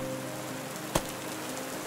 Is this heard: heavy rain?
yes